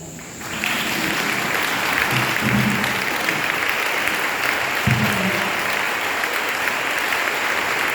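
A church congregation applauding loudly and steadily throughout, a dense sustained wash of clapping from a large crowd with a few low murmurs mixed in.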